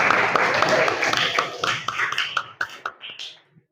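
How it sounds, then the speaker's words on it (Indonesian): Students in a classroom clap their hands in a short round of applause, a close burst of overlapping claps that thins into a few scattered final claps and fades out. "tepuk tangan untuk Maliza."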